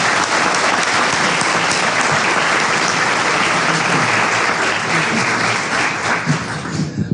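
Loud, dense applause fills a conference hall after a panel presentation on expert forensic reports, continuous and close for the whole stretch.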